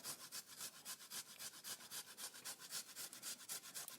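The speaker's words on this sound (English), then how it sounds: "I am going to grate that ginger in there." Fresh ginger rubbed back and forth on a grater, a quick rhythmic rasping of about twenty close strokes, quiet and alone.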